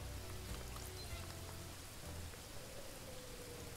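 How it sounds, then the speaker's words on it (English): Rain in the video game Paradise Killer falls steadily, a soft continuous hiss of drops on a surface, quiet and unbroken with no talk. "Raining?"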